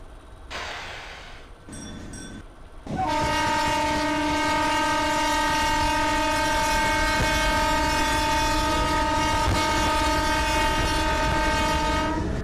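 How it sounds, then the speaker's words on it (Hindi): A short burst of bell and clatter gives way to a loud, sustained electric multiple unit guard horn in an Open Rails simulation of the Sealdah–Dankuni EMU local, holding a steady chord for about nine seconds. "तब तक मैं पीछे में ये गार्ड का हॉर्न बजा देता हूँ, सामने बेल बजा देता हूँ।"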